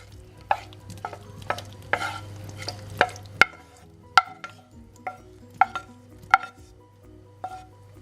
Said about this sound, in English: I'm going to go ahead now to add the zucchini into the egg.